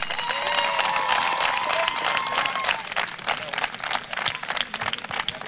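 A crowd applauds the player of the final game at a BatBall tournament final in Uganda, with sustained, dense clapping and some cheering that thins toward the end.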